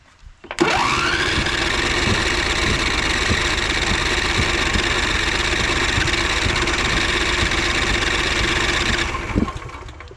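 A 2011 Craftsman PYT 9000 lawn tractor engine being cranked, a long run of rapid rhythmic churning with a whining starter note, loud and close, cutting off after about nine seconds without firing.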